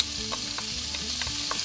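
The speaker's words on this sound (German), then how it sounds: "Das Ganze braten wir kurz an." Bacon and whole small onions frying in olive oil in a pan for a Western-style skillet dish, a steady close sizzle with a few stirring scrapes and faint tonal hum beneath, no voices.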